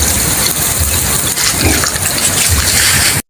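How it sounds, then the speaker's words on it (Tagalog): A little water pours into a pan of pork adobo cooking in coconut wine, making a loud, steady gushing and sizzling rush that stops abruptly at the end. "Maglagay tayo ng kunting tubig."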